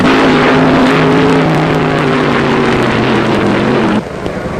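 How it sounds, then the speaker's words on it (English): Funny car drag racers, a Dodge against a Plymouth-powered Ford Mustang, roar loudly and continuously. The engine noise drops off sharply near the end. "In the final go for funny cars, it's Gene Snow's Dodge meeting up with Ben Griffin's Plymouth-powered Ford Mustang"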